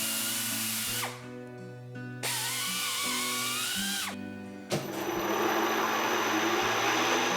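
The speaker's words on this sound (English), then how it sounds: "I set up a jig on the knee mill to drill 4 holes in each plate." A knee mill drills holes through 3/4 inch hot rolled steel plates set in a jig, with a steady tonal motor whine and grinding cutting noise that stops and restarts between holes, loud and close with no talk.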